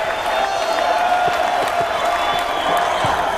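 A big audience at a singing contest grand finale keeps up a steady wash of cheering, clapping and hoots, with scattered whoops rising out of the crowd noise.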